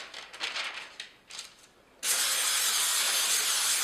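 Nonstick cooking spray hisses onto wax paper lining a cake pan, first in a few short bursts, then one loud continuous spray lasting nearly two seconds.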